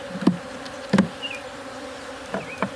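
Honeybees swarm agitated around an opened hive, a steady droning buzz with several sharp, loud passes as individual bees fly close to the microphone; no one speaks.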